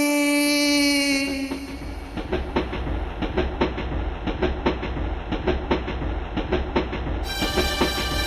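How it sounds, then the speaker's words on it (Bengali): A train running from Budge Budge opens with a long horn blast, then settles into a steady rhythmic clickety-clack of wheels on rails, loud and close, with another horn sounding near the end. "বজবজ হতে ট্রেন ধরেছি,"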